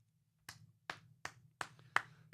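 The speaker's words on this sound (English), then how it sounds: "Yes, that was a golf clap." Six soft, spaced hand claps form a slow, deliberate golf clap over a faint low background hum, with no talking.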